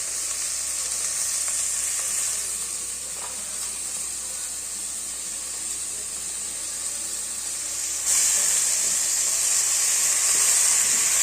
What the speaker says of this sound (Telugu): కట్ చేసుకొని కడిగేసి పెట్టుకున్న తోటకూర ఉంది కదా దీన్ని వేసేసుకున్నాం